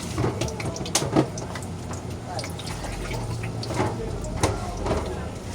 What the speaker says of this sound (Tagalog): Sabawan natin ng isang tabong tubig.